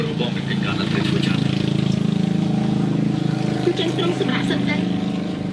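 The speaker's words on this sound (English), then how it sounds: "They have an electric coconut grinder, but it's definitely makeshift." A makeshift electric coconut grinder in a Cambodian village runs with a steady, droning motor hum and faint scraping, close and continuous, with voices talking over it.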